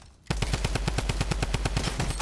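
Rapid automatic gunfire in the video game Fortnite, a steady burst of evenly spaced loud shots running continuously after a short quiet start, with no talk over it.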